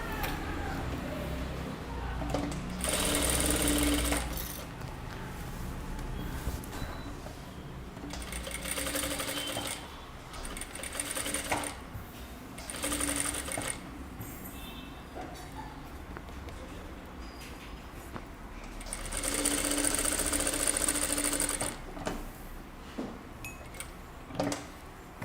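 A sewing machine stitches along the shoulder edge of a kurta, running in loud whirring, clattering bursts of several seconds between quieter pauses, close up, with little or no talk.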